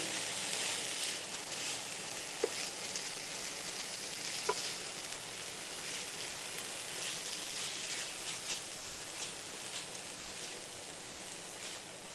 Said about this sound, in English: So we are adding the shrimps. Gently sauteing it.